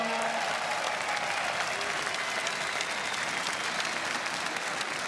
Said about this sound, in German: Einen großen Applaus bitte